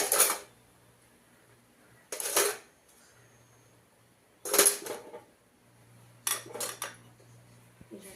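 A lid is set down on a pot of steaming white sago for summer sal papadi in a home kitchen, making four sharp metallic clanks and rattles spaced a couple of seconds apart over a quiet background hum.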